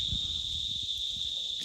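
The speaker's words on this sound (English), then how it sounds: "You hear the cricket there too?" Crickets chirping in a vineyard, a steady high continuous trill running through the whole short stretch at moderate level, with low rumbling handling noise beneath and no talk.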